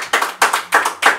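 Short burst of audience applause for Mateo at a comedy show: several quick rhythmic rounds of clapping from a small crowd, close and moderately loud, with no talking.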